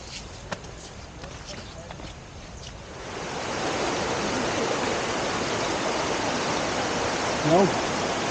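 Rushing roar of Shivling Waterfall in Goa during the monsoon: a steady broadband wash that swells louder after a few seconds and then holds, with faint voices in the background.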